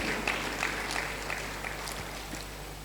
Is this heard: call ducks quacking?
no